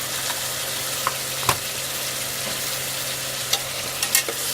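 Brinjal curry ingredients fry in a pan with a continuous soft sizzle, while a spoon scrapes and taps against the pan a few times, close and moderately quiet.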